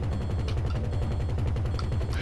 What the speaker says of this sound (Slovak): To strieľam po tebe, nevidíš?